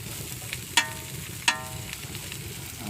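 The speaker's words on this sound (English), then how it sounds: "I'm just going to quickly do these onions in here, because I've heated this pan up really hot" Onions frying in a very hot pan give a steady, fairly quiet sizzle, broken by two sharp pops that crackle out from the oil.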